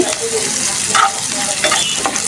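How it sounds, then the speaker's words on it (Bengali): Green chilies, onion, shrimp and garlic fry in a pan for a greens dish, giving a steady loud sizzle broken by a few scraping stirs of the spatula. "শাক ভাজির জন্য কাঁচামরিচ, পেঁয়াজ এবং চিংড়ি মাছ আর রসুন দিয়ে ভেজে নিচ্ছি।"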